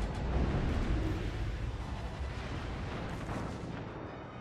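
Heavy warship gunfire in World of Warships: Legends, a sustained roar of booming naval cannon blasts that fades slightly over a few seconds. It sounds loud and dense, with a brief voice at the end.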